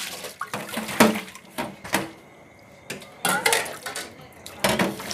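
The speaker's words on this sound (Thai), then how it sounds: "กินเสร็จต้องล้างจาน" Dishes, pots and cutlery clatter and clink intermittently in a home kitchen while washing up after a meal, with running water underneath and bursts of clanking every second or so.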